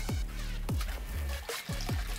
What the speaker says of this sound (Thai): อยากให้มันมีเสียงน้ำไหล